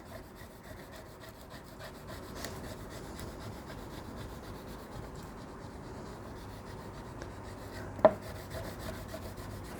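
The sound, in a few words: rubbing transfer tape onto vinyl lettering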